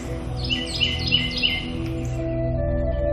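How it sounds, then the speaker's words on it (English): Several birds chirp and trill in quick repeated phrases over a steady low hum in the Mississippi Delta flatlands in spring, the calls thinning out after the first couple of seconds. "A chorus of birds heralds a new beginning."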